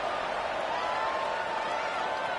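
A college football stadium crowd in the video game NCAA 25 buzzes steadily after a score, a dense, even roar of many voices with a faint rising tone running through it.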